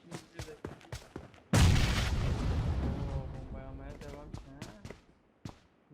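Grenade blast in PUBG, a loud, close boom that hits suddenly and rumbles away over a few seconds, framed by sharp clicks and soft speech before and after.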